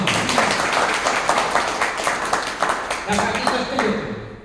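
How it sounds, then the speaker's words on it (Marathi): An audience at a public gathering claps. The dense, steady applause continues throughout and fades slightly toward the end. "एकदा टाळ्या वाजवा"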